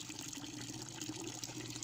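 Water gushing steadily through a tube in a DIY pond water feature with a bio filter, a continuous soft splashing flow heard at low level.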